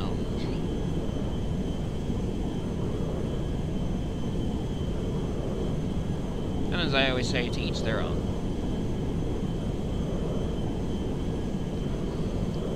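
A slow airplane cruises in the FiveM Transport Tycoon game, a steady low engine drone running under continuous talk for the whole stretch.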